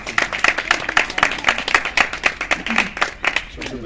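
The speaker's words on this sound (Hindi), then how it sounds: "ज़ोरदार तालियां।" Rhythmic unison clapping from an audience at a birthday church sermon, sharp hand claps in a steady beat of about three per second, close and loud, with faint voices underneath.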